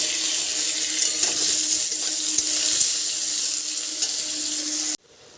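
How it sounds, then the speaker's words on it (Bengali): Mango pieces sizzle steadily in hot oil with panch phoron and dried chillies, a loud continuous frying hiss for about five seconds that cuts off abruptly near the end. "আর এই যে পাঁচ ফোড়ন আর শুকনো লঙ্কা এবার দিয়ে দেবো আম দিয়ে আমগুলোকে বেশ ভালো করে ভেজে নেব"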